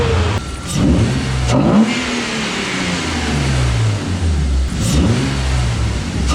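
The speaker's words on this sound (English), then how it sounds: "First time starting it with an intake on it, Oh, let's see if it even starts." A BMW car engine fitted with a new intake cranks, catches and revs, the pitch climbing and falling through several loud throttle blips before settling, close by.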